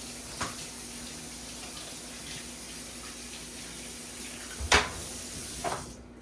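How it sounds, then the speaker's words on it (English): Hands being washed under a running tap in a home kitchen, a steady faint stream of water hiss throughout with a couple of brief louder splashes near the end. "Wash your hands. Make sure you really wash them."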